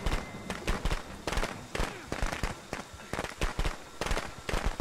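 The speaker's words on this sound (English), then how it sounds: "Oh, fireworks." Rapid crackling bursts of fireworks in the Friday the 13th video game, dense popping pops packed close together over several seconds, with voices talking over them.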